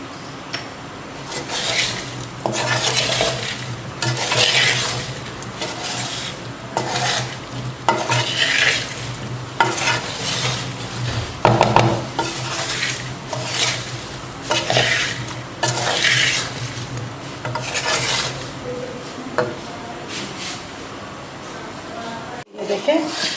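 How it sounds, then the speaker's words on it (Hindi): A spoon stirs lasoda (gunda) pickle frying in a pan over a raised flame, giving repeated scraping strokes over a steady sizzle, close and moderately loud, with someone talking throughout. "थोड़ा सा फ्लेम हम थोड़ा तेज़ करके हिला देंगे इनको।"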